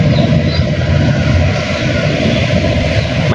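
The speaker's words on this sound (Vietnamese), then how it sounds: "Cái nghe cái tiếng máy chạy là mình thấy là kéo ga hơi lớn rồi đó" Sand barge engine on a river running at high throttle, a loud steady low droning roar that continues without break, close by, with no talk.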